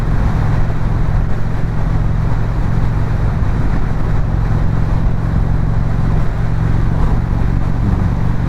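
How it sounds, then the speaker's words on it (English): Loud, steady roar of wind buffeting a motorcycle rider at highway speed as a big truck passes alongside, with a low engine drone beneath the continuous rush of air. "I'm getting some buffeting from that big truck"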